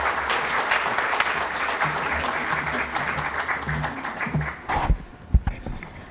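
An auditorium audience at an Indian school-education reform event applauds a guest, a sustained wash of clapping for several seconds that thins out into scattered claps and some knocks at the end.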